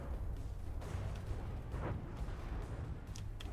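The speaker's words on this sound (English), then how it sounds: "The ship, the Canton, just suffered a big explosion." A ship explodes in the naval combat game From the Depths: a deep, rolling boom with several sharper bursts layered over a constant low rumble, fairly quiet and without speech.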